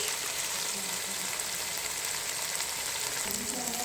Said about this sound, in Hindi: 3 से 4 मिनट तक हम चिकन को अच्छे से फ्राई करेंगे